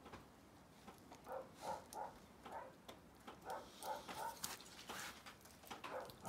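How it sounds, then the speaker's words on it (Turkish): A dog barks from somewhere below on a snowy forest path, a faint, distant series of short repeated barks and yips in an irregular rhythm over quiet background hiss. "Aşağıdan köpek havlıyor."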